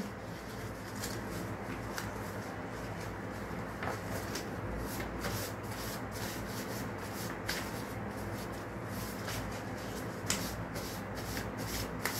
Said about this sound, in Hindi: चलिए थोड़ा इनको शफल करने की कोशिश करते हैं